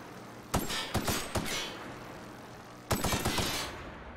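Bursts of gunfire from The Outer Worlds, three quick volleys then a longer rattling burst after a pause, loud and sharp with no talk over them.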